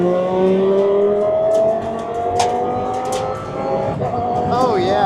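An Audi R8 LMS Ultra race car launches hard at Putnam Park, its engine note climbing steadily in a loud, raw, continuous roar with rising harmonics that shift near the end.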